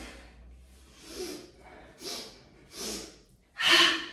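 During a yoga energy routine, a person close by takes three short, sharp inhales through the nose, then releases one louder, forceful exhale.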